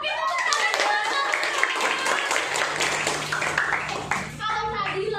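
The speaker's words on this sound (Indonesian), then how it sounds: "Oke, tepuk tangan." Schoolchildren clap their hands together in a classroom lesson, a dense, steady patter of many small hands lasting several seconds, with children's voices chattering over it.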